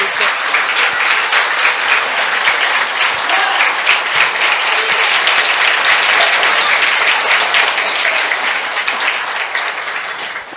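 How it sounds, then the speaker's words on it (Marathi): An audience claps loudly and continuously in a hall at an event honouring actor Sachin Khedekar, a dense, sustained wash of applause that fades slightly toward the end. "आधी टाळ्या वाजवा मग मी बोलते."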